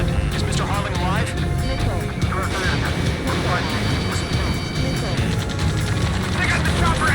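A helicopter in the Ace Combat 7 video game, with a continuous dense rotor and engine roar mixed among other battle noise, and radio voices talking throughout.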